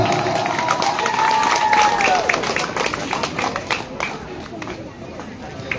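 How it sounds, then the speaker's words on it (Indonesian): An audience at a district government event gives enthusiastic applause, a sustained wash of clapping with a crowd murmur and a speaker's voice heard over it, fading slightly toward the end. "Kita berikan aplaus yang meriah"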